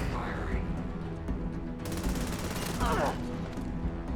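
Gunfire in Starfield, a burst of shots near the middle followed by further crackling rounds, mid-loud over continuous ambient game noise with no speech.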